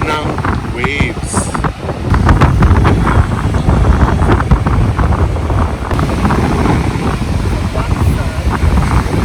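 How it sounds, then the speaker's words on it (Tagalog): Strong ocean waves pounding a black sand beach in Greece, a heavy rolling surge with wind buffeting the microphone, while people talk over the noise. "ganda pakinggan ng ingay o sound ng waves"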